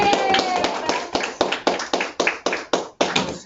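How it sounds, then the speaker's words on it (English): Applause in a classroom: a small group of students clapping, starting as a dense burst and thinning into about a dozen distinct, fairly close claps by the end, with brief talk and cheering mixed in at the start. "Give her a round of applause,"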